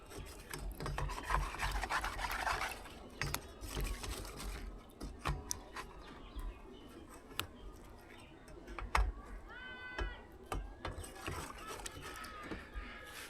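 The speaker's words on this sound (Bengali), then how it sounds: "পাউডারটা এখন গুলাচ্ছি, পুরোভাবে মিশিয়ে নেব।" Cleaning powder being stirred and mixed into a solution for cleaning a mobile phone cover, giving scattered scraping and rubbing strokes with brief clicks and taps, moderately close and fairly quiet, with no talk over it.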